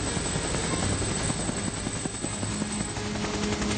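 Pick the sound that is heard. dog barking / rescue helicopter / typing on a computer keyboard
rescue helicopter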